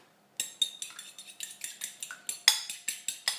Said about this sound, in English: Now I'm going to just whisk the eggs.